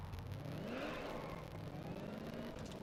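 Supercharged car engine in Test Drive Unlimited Solar Crown revving steadily, a continuous mid-pitched drone with a rising whine layered over it, fairly loud and close, with no voices.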